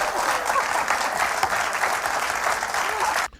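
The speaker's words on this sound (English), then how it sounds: "Now she's clapping." Applause fills a TV infomercial, a brisk run of many hands clapping at a steady pace for about three seconds before it cuts off sharply.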